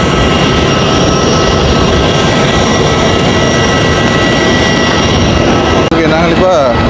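A steady, loud roar of a jet aircraft at an airport, the plane the travellers just arrived on, fills the whole stretch with a dense engine drone. A brief dip and shift comes near the end.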